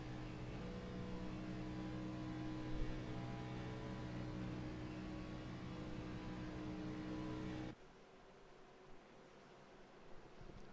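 A stock car engine in an Xfinity Series racing sim at Chicagoland holds a steady high-rev drone for several seconds, then cuts sharply to a quieter hum.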